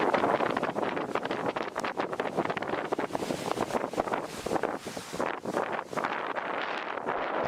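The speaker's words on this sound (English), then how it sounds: "Pretty windy day." Strong wind gusting across an outdoor island setting, a steady roaring rush with microphone buffeting that stays loud and unbroken, with no one talking.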